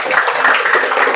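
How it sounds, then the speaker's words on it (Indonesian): A classroom of students claps together in a short, loud burst of dense, steady applause lasting about a second, close by. "Tepuk tangan semuanya."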